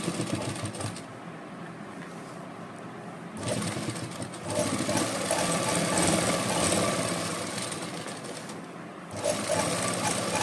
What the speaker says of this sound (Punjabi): ਆਪਾਂ ਸਿਲਾਈ ਮਾਰ ਕੇ ਤੁਹਾਨੂੰ ਫੇਰ ਦਿਖਾਉਂਦੇ ਹਾਂ